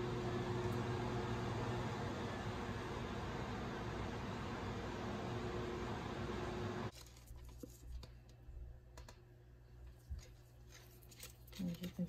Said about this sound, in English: Now I'll just take my cup, I'll stick it in the microwave,